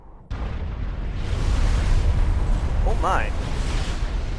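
A power detonate blast in the real-time strategy game Supreme Commander 2 bursts in suddenly and loudly, then rolls on as a sustained, broadband rumble for several seconds while a voice briefly exclaims over it.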